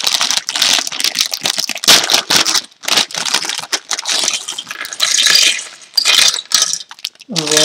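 A plastic LEGO Nexo Knights parts bag being torn open: dense, loud crinkling and crackling in irregular bursts with short pauses, and pieces clicking inside, close to the microphone, with a brief tonal sound at the very end.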